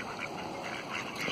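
Ducks being fed wild seed bird feed quack in a steady, fairly close chatter of overlapping calls outdoors.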